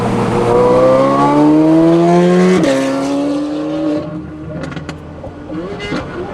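A Corvette C8 Z06 with a titanium exhaust in quiet mode, its engine note climbing through gears as the car pulls away, then easing off and fading toward a softer idle.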